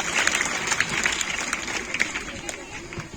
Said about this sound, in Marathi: कुदळे सर साठी टाळ्या वाजवा